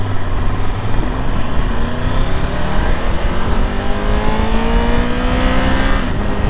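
Engine of a 2022 Triumph Tiger 1200 GT Pro motorcycle pulling hard under acceleration, a steady loud drone with a pitch climbing smoothly through a gear over several seconds, with wind noise throughout and no talk.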